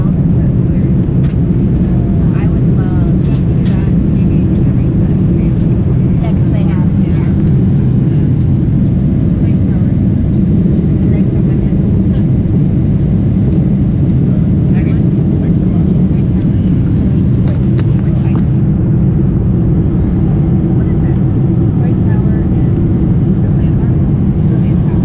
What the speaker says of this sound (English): What a beautiful takeoff.